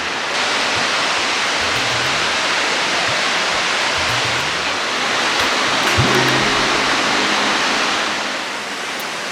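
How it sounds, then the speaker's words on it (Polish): Iguazu Falls in South America, a massive waterfall system, roaring as a dense, steady wall of rushing water that stays loud and unbroken throughout, with faint low engine-like rumbles underneath. "po prostu są wielkie wodospady i tyle"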